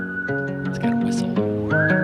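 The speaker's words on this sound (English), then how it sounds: "It's got a whistle." Whistling from a song, a melodic whistle line gliding between sustained notes over the backing music, clear and prominent for a couple of seconds.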